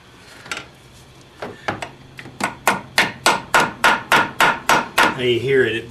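A hammer drives a punch against a part on a Mercedes 300D engine during a head replacement: a dozen loud, close metallic blows that start sparse and settle into a fast, even rhythm, ending with a brief ringing whine.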